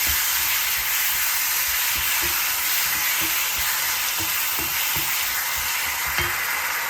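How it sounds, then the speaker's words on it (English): Vegetarian keema sizzles steadily in a frying pan as tomatoes are stirred in, a constant bright hiss with soft scraping stir strokes and light clicks of the spoon, close and without talk. "Now we put in the tomatoes. Let's stir that in just a bit."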